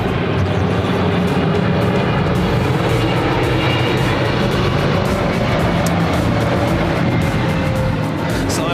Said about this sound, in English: we have another heavy arriving. Cathay Pacific Flight 882 coming up from Hong Kong at 777-300ER